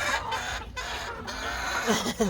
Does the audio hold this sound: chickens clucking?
yes